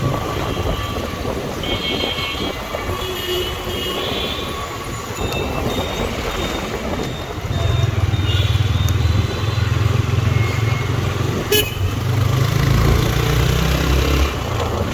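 A motorbike rides through empty Dhaka streets during the Eid ul-Fitr holiday at 45 to 50 km/h, its engine droning steadily and deepening into a louder rumble partway through, with wind and traffic noise around it.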